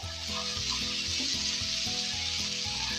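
Chopped cabbage sizzles and fries steadily in a hot pan over a high flame while being stirred for shami kabab, the crackle constant and close with faint scraping.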